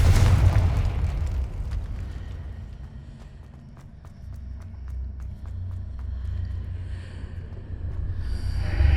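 A Confringo spell goes off in a Harry Potter video game, a booming burst that rolls into a long rumbling tail, with quieter crackles and a swell of game sound near the end.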